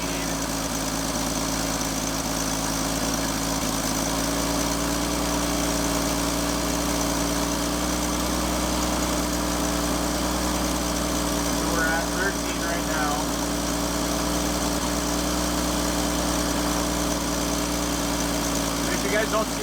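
A Chevy C10 with a Rochester Monojet carburetor idles steadily throughout while the idle stop solenoid is being adjusted, giving a constant, even engine drone with faint talk in the background.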